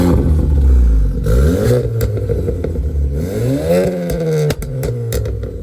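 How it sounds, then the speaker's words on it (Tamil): A modified Skoda Superb's loud exhaust revs up and down several times, rising and falling in pitch with crackles and pops between blips, close by. "எக்ஸாஸ்ட் நோட்டை கேளுங்க"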